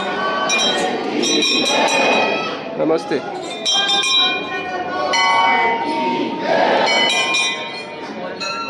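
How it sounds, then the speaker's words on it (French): Temple bells rung by worshippers entering a temple in India, bright metallic clangs and clinks repeating irregularly through the whole stretch amid a busy crowd, with people talking nearby. "donc les gens quand ils rentrent, ils sonnent les cloches."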